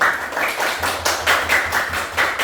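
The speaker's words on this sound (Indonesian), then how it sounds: "Kita beri dulu tepuk tangan" Students in a classroom clapping for a group that has just finished presenting, a steady patter of many hands in close rhythmic bursts, moderately loud, with no talk.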